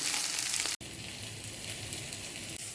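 Onions and tomatoes sizzle steadily in a hot pan, the frying briefly cut off once before continuing.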